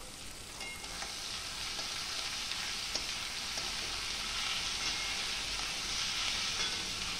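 Potatoes fry in oil in a pan with a steady, bright sizzle and faint crackles. The sound is close and continuous, with occasional stirring and no voices.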